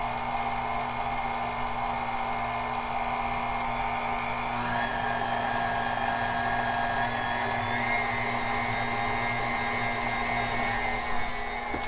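Electric stand mixer blending cake flour into cream cheese pound cake batter, a steady loud whirring motor drone that holds level throughout with a slight pitch shift partway, no voices.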